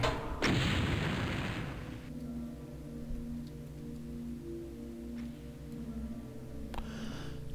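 A single deep, loud rocket explosion from the video game Doom bursts at the start and decays into a rumbling tail, followed by low droning game ambience and a few faint distant thuds.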